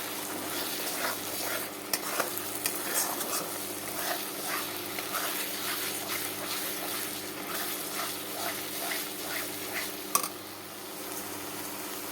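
Vegetables stir-fry in a pan with cooked-down spice paste for a rohu fish curry with potato and tomato, making a continuous low sizzle with occasional stirring clinks, fairly quiet and steady.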